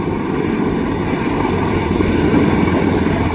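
A USMC CH-53E heavy-lift helicopter comes in to land in gusty wind, its rotors and engines producing a loud, steady broadband roar and low thrum that holds constant throughout.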